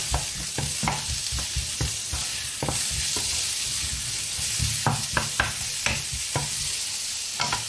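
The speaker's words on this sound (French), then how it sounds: "Et on va les faire revenir 5 minutes." Small zucchini sauté in a pan for a feta and coriander cake, a loud continuous hiss of frying with regular knocks of a spatula stirring throughout.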